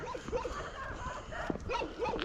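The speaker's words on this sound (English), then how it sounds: "we've got dogs barking the bloody head off at the minute" Several street dogs barking outdoors in Turkey, repeated yelps and barks overlapping one another at middle distance over a continuous background hum.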